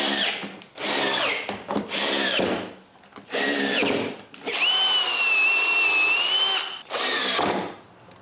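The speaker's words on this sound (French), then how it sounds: "je visse et colle des bouts de bois à l'intérieur du côté" A power drill driving screws into wood blocks glued inside the side of a staircase during a step modification: several loud whirring bursts of one to two seconds, separated by brief pauses, close and with no talk.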